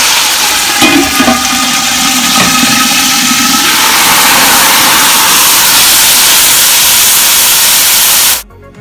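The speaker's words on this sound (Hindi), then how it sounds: "अब हम इसके अंदर पानी शामिल करेंगे।" Water pours loudly into a hot cooking pot of browned onions for matar pulao, hissing and sizzling steadily before cutting off abruptly at the end.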